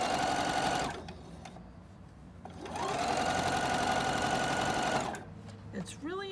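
A sewing machine stitches a fleece hat seam at a 1/4 inch allowance, running in two steady whirring bursts with a brief pause between them, loud and close, with faint movement noise at the end.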